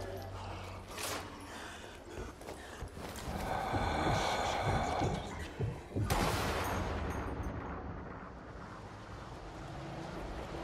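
Gunshots in Zombie Army Trilogy: a few heavy rifle reports with a booming impact near the middle, then echoing tails and low ambient rumble, with breathy vocal sounds mixed in.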